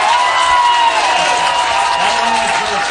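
Fans at a Nanaimo NightOwls versus Kamloops NorthPaws baseball game clap steadily in a broad wash of crowd noise, with a voice speaking over it.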